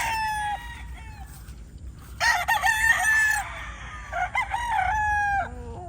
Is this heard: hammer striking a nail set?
no